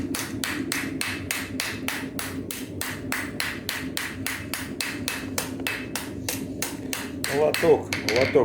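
A blacksmith's apprentice hammers a knife blade on an anvil, delivering a steady run of sharp, ringing metallic strikes at an even pace, close and loud, with faint voices and some clatter near the end.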